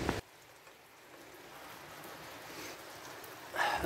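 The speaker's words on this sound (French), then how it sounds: "c'est la grosse pluie. Il pleut vraiment beaucoup." Heavy, steady rain pours down on a day along the GR 65 pilgrimage trail, a dense, even hiss that holds for several seconds before a louder burst of noise at the end.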